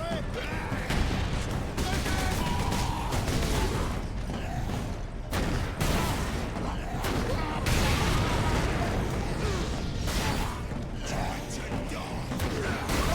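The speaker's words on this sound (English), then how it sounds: "now it's me causing the explosions" Rapid gunfire and explosions fill a Warhammer 40,000 Space Marine battle, with dense bursts of shots, heavy blasts and mechanical clanks in a constant loud barrage, briefly dipping a few times.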